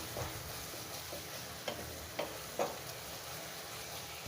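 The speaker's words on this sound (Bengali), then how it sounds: "এক চা চামচ জিরা পেস্ট দিয়ে ভালোভাবে মশলাটাকে আর কষিয়ে নেব" Onion-garlic and cumin paste masala sautéing in a pan for a Golsha fish curry with potol and tomato, a low steady sizzle with a few soft spoon scrapes and stirs, close and quiet, no voices.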